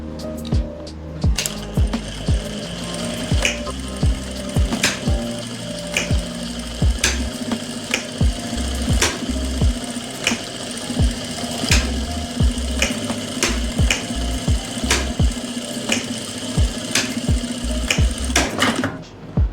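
A sewing machine runs close and loud, its rapid needle strokes ticking in a steady rhythm as it stitches an elastic joint on palazzo trousers, with a short pause near the start.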